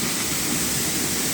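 Water pouring steadily at a hidden waterfall in Banepa, a dense, close rushing roar that stays constant with no voices over it.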